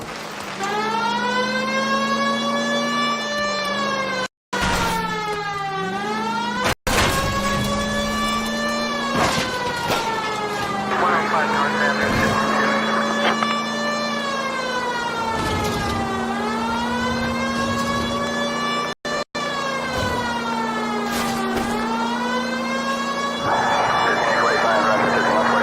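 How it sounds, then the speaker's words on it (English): A loud emergency vehicle siren wails in long rising and falling sweeps close by, the tone cycling repeatedly with a few brief cutouts and a steady low engine hum underneath. "People might move out of the way quicker if you use the siren."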